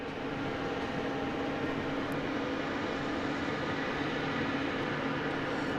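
A FedEx aircraft coming in to land at Boston Logan airport, a steady broad roar of jet engine noise that stays even and continuous throughout, with no talk.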